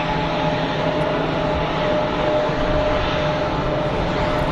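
A Pegasus Airbus A321neo taxiing at Geneva Airport gives a steady, loud jet engine rumble and whine, continuous and even throughout with no pauses.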